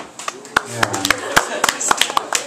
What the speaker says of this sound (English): Sympathy applause.